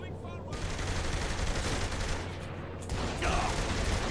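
Dense, rapid gunfire in the video game Saints Row The Third, with bursts of shots crackling loudly and almost continuously, briefly dropping off before resuming.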